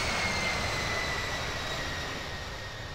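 Jet airliner engines in the Infinite Flight simulator at Geneva Airport, a steady broadband roar with a faint high whine running throughout, loud and unchanging for the whole stretch with no talking.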